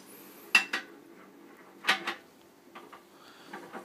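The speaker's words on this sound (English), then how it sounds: "Riddling tool is supplied with the stove and operates as such." Metal riddling tool rattling the grate of an Aarrow Ecoburn 5 solid fuel stove, giving two sharp clattering bursts a second apart and then fainter scattered metallic clinks, close and without talk.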